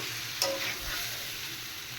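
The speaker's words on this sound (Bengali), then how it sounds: "এবার এঁচড় দিয়ে ভালো করে একটু সাঁতলে তারপর আমি পরিমাণ মতো জল দিয়ে দেব।" Fried raw jackfruit sautéed in spice masala in a pan, a steady close sizzle with a brief stirring scrape near the start, no voices.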